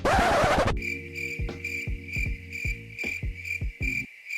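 Mechanical hunter pet in World of Warcraft making its click sound: after a short loud burst, a steady high electronic whine runs with a series of rhythmic metallic ticks and chirps, close and clear with no talking.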